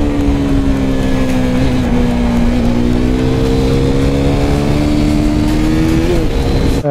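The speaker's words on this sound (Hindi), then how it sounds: "लो भाई bike is almost ready, and भगा के देखते हैं भाई कितना पहुँच रही है कितना नहीं।" A recently repaired motorcycle engine roars loud and close, its pitch climbing steadily as it revs and pulls away. It runs continuously, and no one speaks.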